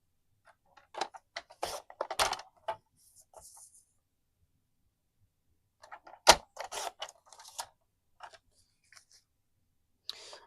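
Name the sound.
cutting designer series paper to 4 by 5.25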